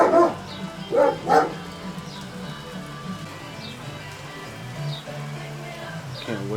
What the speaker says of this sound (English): Can't even come in the garage without dogs barking